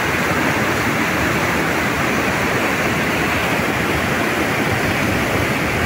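Water rushes through the Dowleswaram barrage at Rajahmundry, a loud, unbroken broadband roar that stays steady from start to finish with no voices.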